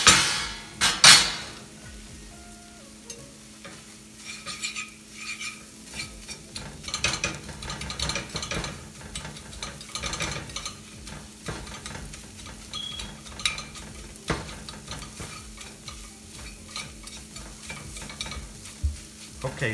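Akuri eggs being vigorously scrambled in a pan, with repeated clattering scrapes and knocks of a utensil against the metal over a low sizzle, loudest at the start and then continuing in uneven bursts.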